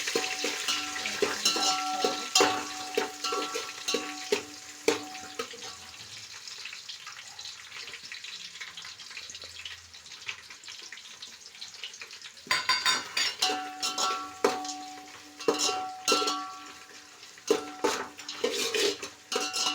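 Onion and whole spices, including bay leaf and kasuri methi, frying in a pan for bagara rice, with a hissing sizzle under repeated clinks and scrapes of a metal utensil against the pan, close and fairly loud throughout.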